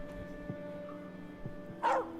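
A dog gives a single short bark near the end, after a stretch of low steady background hum with a couple of soft thumps.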